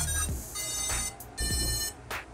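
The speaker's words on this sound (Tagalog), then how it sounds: "Maganda yung buzzer niya" A short series of electronic buzzer beeps and tones from a brushless drone powering on, close and fairly quiet, sounding in a quick start-up pattern with brief pauses between.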